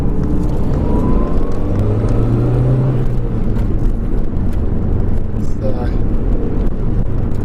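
Onboard a 1999 Toyota MR2 GTS Turbo on a test drive, a steady low engine drone and road rumble fill the cabin with a brief rising pitch, continuous and close with no talk.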